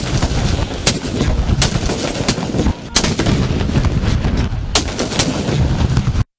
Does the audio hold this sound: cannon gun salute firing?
yes